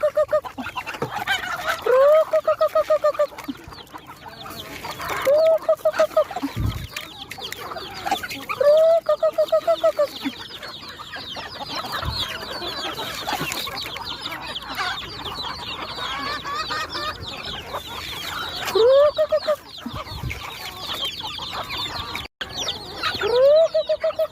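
Backyard chickens and roosters cluck and call repeatedly at feeding time in a rural Philippine farmyard, with crowing-like calls recurring every few seconds over a busy, continuous bed of fowl noise.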